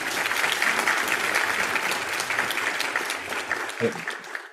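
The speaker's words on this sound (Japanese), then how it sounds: "拍手ありがとうございます" Applause during an online webinar, a continuous burst of many hands clapping that carries on evenly before thinning out at the end, with a brief thump near the close.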